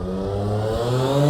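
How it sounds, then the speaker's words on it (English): A supercharged Audi S4 fitted with a cold air intake, on its first startup: a close engine revving upward with rising harmonic whine and steady mechanical drone, loud and alone. "First time startup. Let's see how it sounds."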